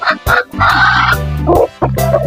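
Chickens calling close by, a few loud honking, clucking cries in quick succession with short breaks between them.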